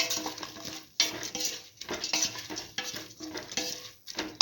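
Spoon scraping and clinking against a pot while okra and split mung bean stew is stirred, repeated rhythmic strokes up close with faint sizzling between them.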